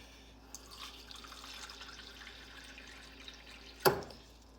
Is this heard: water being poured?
yes